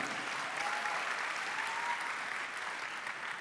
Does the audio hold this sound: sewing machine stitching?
no